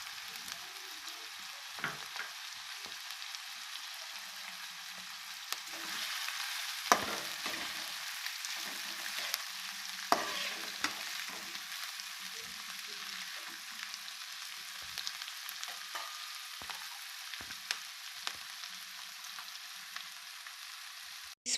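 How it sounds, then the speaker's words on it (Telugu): Onions and green chillies frying in hot oil for egg fried rice, a steady close sizzle and crackle running throughout with a few sharper pops and stirring clicks, no voices. "ఆనియన్స్ ఫ్రై అవుతున్నాయి"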